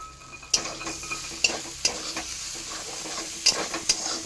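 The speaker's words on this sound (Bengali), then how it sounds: "দেখছেন তো আমার কষা হয়ে গেছে, মশলাটা আমার ভাজা হয়ে গেছে" Spice paste frying in a pan for a Malabar spinach raita, with a steady sizzle and several sharp scrapes and knocks of a utensil stirring it, no talking.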